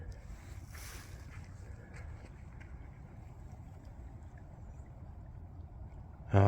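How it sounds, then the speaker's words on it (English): Rio Grande river water flowing past a cottonwood forest bank, a steady broad rushing wash heard close and continuous, without talk, until a brief loud bump at the very end. "Flowing pretty good."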